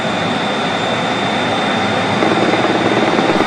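Learjet on the runway with its engines at full throttle, a loud, steady roar with a thin high whine running through it, close and continuous, with no voices.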